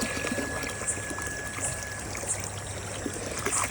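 Water from a motor pump pours steadily into a basin, a close, continuous gushing stream with a faint splash and no talking.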